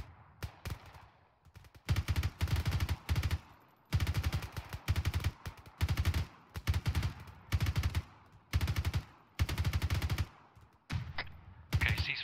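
Heavy automatic gunfire from a military shooter set in Afghanistan, long loud bursts repeating every second or so with short gaps between, close and dominant throughout.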